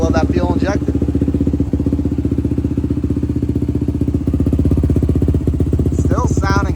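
A Yamaha YFZ450 ATV with an aftermarket exhaust pipe idles steadily and loudly throughout, a dense rumbling pulse with a brief blip, while someone talks over it at the start and end.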